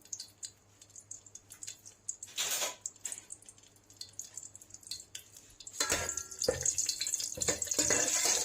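Bay leaves and whole red chilies hit hot oil in a home kitchen: quiet clinks at first, then a loud, steady sizzling hiss bursts in partway through and keeps going to the end, with no talking.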